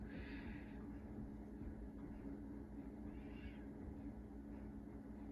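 Several house cats meow in separate drawn-out calls, a couple of clear cries spaced a few seconds apart over a steady low outdoor rumble, with no talking.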